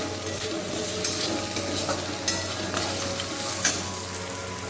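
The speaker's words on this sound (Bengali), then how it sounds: "এটাকে একটু ভেজে নেবো ভালো করে" Goat leg pieces fry in a pan with a steady, close sizzle that holds through the whole stretch, while a few louder stirring scrapes and clinks break through now and then.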